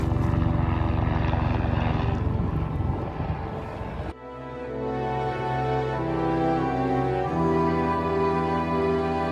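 A loud, steady engine drone with a deep hum that shifts pitch partway through, a boat motor running close by during a river crossing in Nepal, with no talking.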